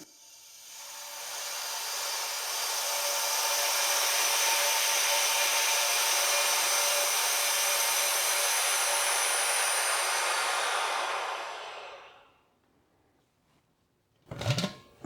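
A loud, steady mechanical whine of a vacuum pump degassing silicone runs for about twelve seconds, then cuts off, followed by a brief clunk after a pause.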